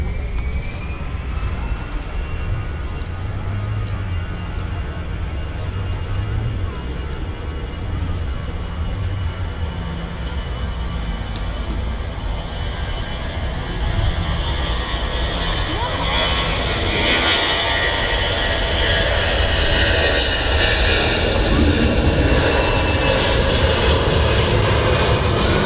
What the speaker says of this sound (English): We've got 2 EasyJets on approach at the moment, one from Lanzarote and one from Geneva.